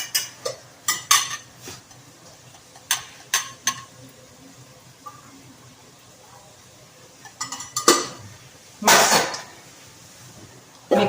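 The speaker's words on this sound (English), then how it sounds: "mix it well" Metal spoon scraping and clinking against a pan while crispy fried onion is stirred with coriander powder and garam masala for a Moghlai biryani, in short irregular bursts with a louder sizzling scrape near the end.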